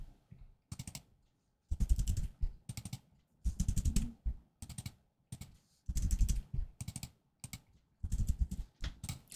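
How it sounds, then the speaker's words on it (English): Fingers type on a computer keyboard in quick bursts of crisp key clicks separated by short pauses, close and moderately quiet, with no voices. "I'm going to press enter and I'll type the E 4 times"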